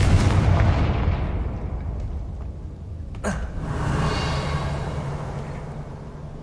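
A Confringo spell explodes in the Hogwarts Legacy game, a heavy booming blast with rumbling low end that decays over several seconds, with a sharp crack midway and no talking.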